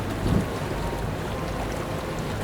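A tour boat's motor drones steadily under rushing wind noise buffeting the microphone, with water washing along continuously.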